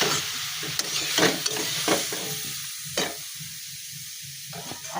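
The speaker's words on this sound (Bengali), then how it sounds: "এটাকে একটু ঘি দিলাম, দিয়ে একটু ভাজা ভাজা করি।" Food fries in ghee in a pan, giving a soft, steady sizzle with scattered clinks of a utensil stirring, close and fairly quiet.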